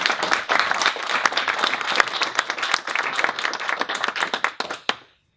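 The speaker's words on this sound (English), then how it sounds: "Applaud for you." An audience at a tech presentation bursts into steady applause, many hands clapping densely for about five seconds before the sound quickly dies away.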